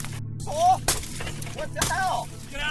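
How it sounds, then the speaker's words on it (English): A police officer smashes a car window during a traffic stop, giving sharp broadband shattering bursts near the one-second mark and again around two seconds, close and loud, with people talking and shouting over a steady engine hum. "they just broke my glass"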